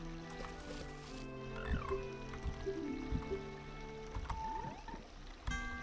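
Frogs croak in a Zelda: Ocarina of Time game scene, a series of short croaks and musical tones over a steady tonal background, with a few louder bursts near the middle and end.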